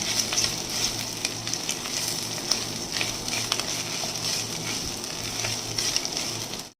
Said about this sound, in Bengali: মাখিয়ে রাখা এই চালটাকে দিয়ে আবার একটু ভাজবো।